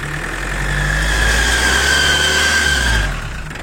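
A motorhome engine runs steadily and close, with a rough broadband rumble and a thin high squeal riding on top that rises then fades near the end.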